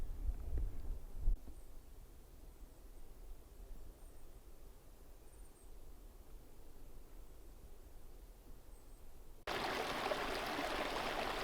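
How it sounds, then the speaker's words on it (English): A small mountain stream flows across a hiking trail in the Pecos Wilderness along the Winsor Trail, giving a steady soft wash of running water close by that turns louder and brighter near the end as the listener moves nearer. "I've come to this little water source here. And the trail crosses over it right here. Nice little stream."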